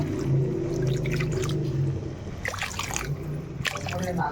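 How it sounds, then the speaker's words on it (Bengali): Water is poured into an egg curry masala in a pan: a close, steady trickle and splashing that shifts into sputtering bubbles and brief dribbles, with no talk. "এবার একটু জল দিয়ে দিচ্ছি এর মধ্যে"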